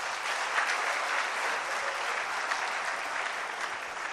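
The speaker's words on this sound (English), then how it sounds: "Give him a big round of applause" A youth summit audience in Jaipur applauds steadily, a dense, even wash of clapping that holds at full strength from start to finish with no voices rising above it.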